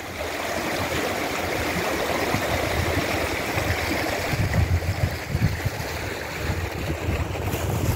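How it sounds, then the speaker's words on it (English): A woodland creek among spruce and pine flows in a steady rushing wash, with wind gusting over the microphone and swelling midway. No voices. "being by any creek and hearing the water and feeling the wind blow"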